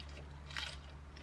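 A single crisp crunch of biting into crunchy lettuce dipped in sauce, faint and close, over a steady low background hum.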